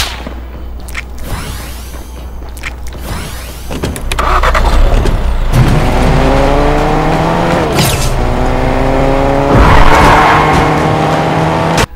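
Car driven in the video game Fortnite, a steady engine drone that rises and revs with shifting pitch through the clip, loud and continuous with a few thuds and no talking.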